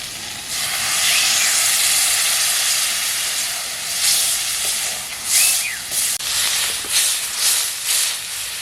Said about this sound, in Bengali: এখন অল্প করে জল দিয়ে দেবো।